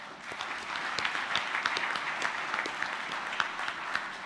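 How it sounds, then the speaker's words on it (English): An auditorium audience at a peace convention claps for Nelson Mandela, a dense, even wash of hands with a few sharper individual claps standing out. "could we give Nelson Mandela a round of applause?"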